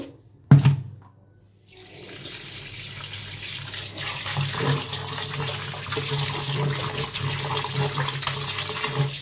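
Running tap water pours steadily over raw duck meat in a sink, a continuous splashing stream after a brief clunk and pause at the start.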